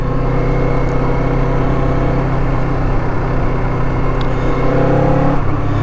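A Kawasaki Eliminator motorcycle cruising on an open road, its engine humming steadily with a low droning note and constant wind rush throughout, with no talk over it.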